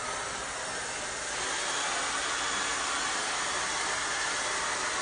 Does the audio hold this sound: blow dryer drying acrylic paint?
yes